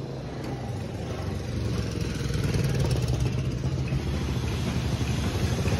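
A 2003 second-generation Honda CR-V engine runs at a steady idle, a close, even mechanical drone with a slight rise in level midway and no talking over it.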